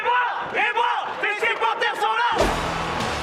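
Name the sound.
football fans cheering as team bus arrives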